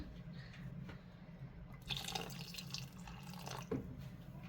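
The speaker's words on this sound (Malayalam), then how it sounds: "തിളച്ച വെള്ളമാണ് ഒഴിച്ചത്." Boiling water poured into a curry pot of mathanga erissery, a steady close liquid splashing and gurgling pour with a brief louder splash partway through, no talking.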